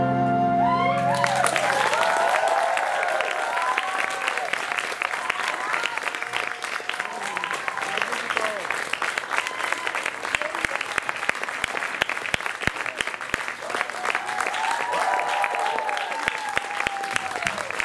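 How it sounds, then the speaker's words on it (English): An audience at a theatre show claps steadily and loudly after a tonal musical ending, a dense continuous patter of many hands that holds for the rest of the clip. "One final little round of applause for the committee who's put this together"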